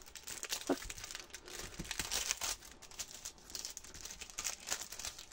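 Wrapping on a parcel of scrapbooking papers and die cuts crinkles and rustles steadily while it is opened, with a few sharper tearing crackles, close and moderately quiet, with no talk.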